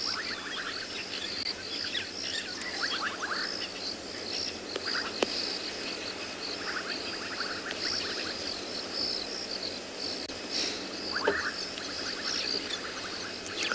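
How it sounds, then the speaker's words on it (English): Dense, steady chorus of frogs and insects calling on a still, windless night in the South African bush, a continuous bubbling and trilling wash with repeated pulsed bursts, moderately loud and with no talk over it. "Just frogs. Mainly the bubbling casino that I can hear."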